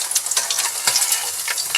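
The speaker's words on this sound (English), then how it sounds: "But I'm going to use a spatula. Flip these babies over." Salmon croquettes frying in a pan with a constant bright crackling sizzle, a few scrapes and taps as a spatula turns them, close and without voices.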